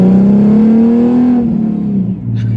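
A Ford Mustang with a 4.0 engine accelerates hard, its loud, close engine note climbing steadily in pitch before a brief dip at a gear change, then pulling again, with no talk.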